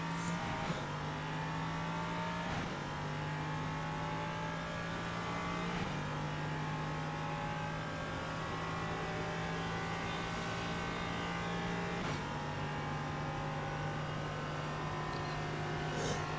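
A Ligier JS P320 LMP3 race car driven around the Miami Grand Prix circuit in iRacing, its engine holding a steady, fairly faint droning tone with occasional sharp clicks as the throttle picks back up.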